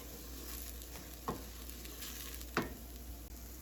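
Rice grains toast in a hot pan, a faint steady sizzle with two brief scraping sounds as the grains are stirred.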